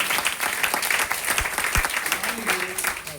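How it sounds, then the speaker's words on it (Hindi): Crowd applause at a motivational seminar in a hall, a steady wash of clapping at moderate level with a couple of low thumps and faint voices beneath. "ताली होनी चाहिए इनके लिए।"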